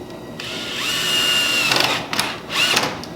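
A power drill set to low torque drives screws slowly into a wooden cabinet face-frame rail, its whining motor rising and steadying, then stopping and restarting in short close bursts.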